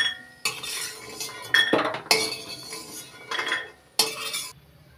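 Fried lentil dumplings (bori) scooped out of a hot pan with a metal spoon: several separate bursts of scraping and clinking metal against metal, close and fairly loud, with quiet gaps between.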